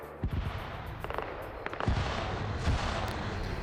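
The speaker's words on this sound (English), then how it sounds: "Patriot going down to a barrage of grenades." A barrage of grenade explosions in a team-based shooter game, several sharp booming blasts at irregular intervals over a background of distant battlefield rumble.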